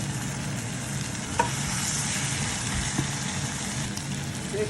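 Fried prawns stirred into a simmering Jaffna-style prawn curry, giving a continuous broad frying sizzle with occasional soft utensil clinks against the pan, close and steady throughout.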